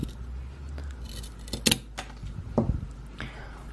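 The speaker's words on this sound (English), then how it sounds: "And this is my wood wick. Also gonna give it a good trim." Scissors snipping the wick of a homemade container candle, likely a wood wick: a few sharp metallic clicks and snips close by, with a short rustle between cuts.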